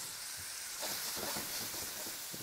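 Herbs and blueberries sizzling in butter in a pan, a faint, steady hiss with soft crackling pops scattered through it.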